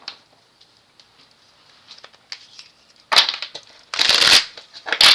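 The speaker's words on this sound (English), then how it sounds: "Let me shuffle." Tarot cards being shuffled by hand, with soft riffling and crisp bursts of card flutter, the loudest flurries arriving in the second half against an otherwise quiet room.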